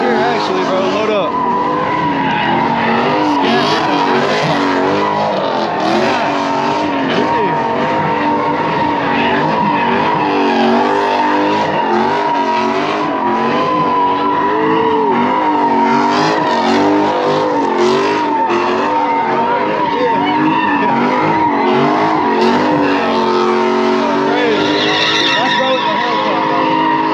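Dodge Hellcat revving hard and skidding its tires at a street takeover in Greenville, a loud continuous engine roar with squealing rubber throughout, people talking faintly underneath.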